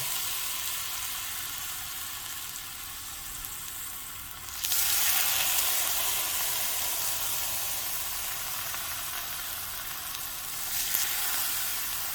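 A consommé-dipped tortilla for birria queso tacos sizzles steadily on an oiled grill, a close, continuous frying hiss that swells louder midway as it settles onto the hot surface.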